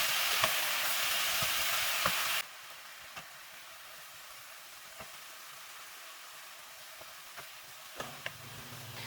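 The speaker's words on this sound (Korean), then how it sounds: "소스가 잘 배이도록 볶아주세요." Meat stir-frying in a pan with fish sauce gives a loud, hissing sizzle that drops abruptly to a quieter steady fry, broken by occasional small clicks of the pan, with nobody speaking.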